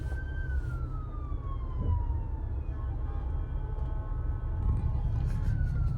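Ambulance and police sirens wail on a Dubai street, a long falling tone sweeping down over steady traffic rumble, with other siren tones layered in, fairly close and continuous.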